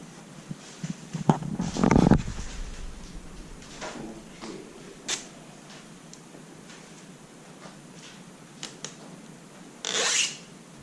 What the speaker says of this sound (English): we're going to go ahead and we're going to take the tape loose